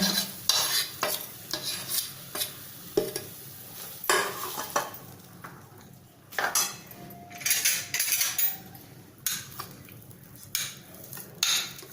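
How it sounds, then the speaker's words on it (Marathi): A spoon scrapes and stirs jaggery into cooked dal in a pan over medium heat in repeated strokes, close and clear, with a faint sizzle underneath and no talking. "हे मिसळून घ्यायचं छान शिजवायचं आहे आपल्याला मध्यम गॅसवर"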